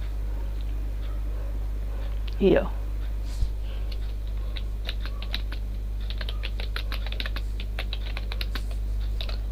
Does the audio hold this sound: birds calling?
no